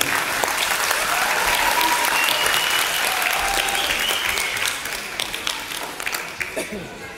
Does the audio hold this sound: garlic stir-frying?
no